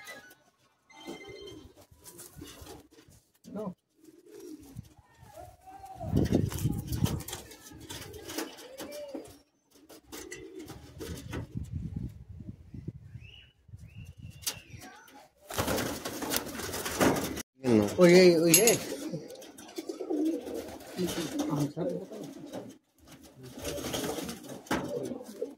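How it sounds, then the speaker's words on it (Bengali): Old Madrasi high-flying pigeons kept for sale in Kolkata coo intermittently up close, mixed with wing flutters, rustling and sharp knocks in the loft, with a busier noisy stretch midway. "এগুলো সব পুরানো পায়রা, প্রচুর বড় বড় পট্টির পায়রা"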